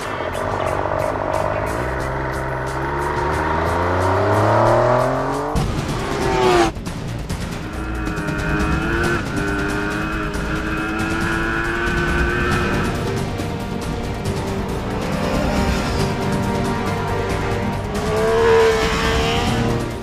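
MV Agusta F3 motorcycle engine cranking and catching, then revving up and pulling away as it is ridden, a loud, continuous engine drone rising and falling in pitch close by.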